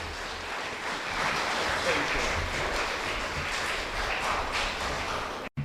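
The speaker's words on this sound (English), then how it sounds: "for your spontaneous applause" A lecture audience breaks into sustained applause, a dense steady wash of many hands clapping in a large room, holding level for several seconds before cutting off abruptly.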